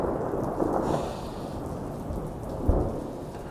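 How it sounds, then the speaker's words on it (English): Steady rain falls on a rainy day while low thunder rumbles and rolls beneath it, with a brief sharper crack near the end. "The thunder agrees."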